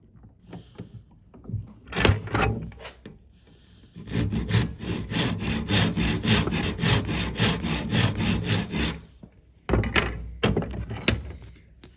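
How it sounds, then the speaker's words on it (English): A hand saw cuts wood for a bridle joint: a few short strokes, then a long steady run of rhythmic back-and-forth rasping, ending with a couple more quick strokes, close and clear. "cut down to make sure you cut down to the line on both sides"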